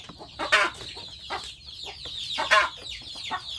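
Close, loud clucking from a big, fine village rooster (ayam kampung), a run of sharp irregular clucks and throaty squawks spaced by short gaps, with no talk over it.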